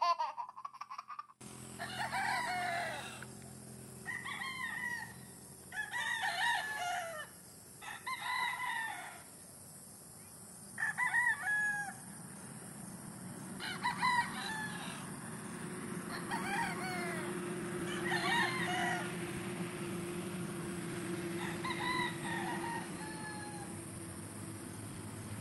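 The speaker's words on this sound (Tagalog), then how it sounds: "sinasanay na nga ni Richard sa tali ang mga bagong harvest niyang stag" Gamefowl stags on a farm crowing repeatedly, several roosters calling one after another at moderate distance over a steady outdoor hum, with no talk.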